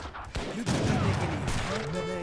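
Cannon and musket fire in Age of Empires 3: Definitive Edition, India campaign of The Asian Dynasties on hard difficulty, with loud overlapping bursts of shots and booming impacts in rapid succession, while a voice talks over the battle.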